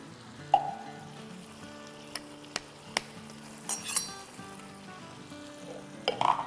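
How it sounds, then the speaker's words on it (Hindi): Ground spices drop into a pot of curry chicken and fry with a soft, steady sizzle, punctuated by a few light clinks and scrapes of a spoon against the pot. "अब इसमें हम डाल देंगे ये हमारे जो पीसे थे मसाले वो।"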